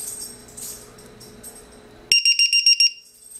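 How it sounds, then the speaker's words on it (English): A HobbyKing low-battery checker for 2 to 4 cell packs suddenly emits a rapid series of about six loud, high-pitched electronic beeps after a quiet stretch. "Oh, started to beep,"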